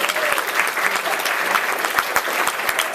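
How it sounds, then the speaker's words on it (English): A small group on a hospital medicine ward gives the trainees a round of applause, with sharp, close hand claps in a brisk, uneven patter that runs the whole time. "Round of applause for our trainees."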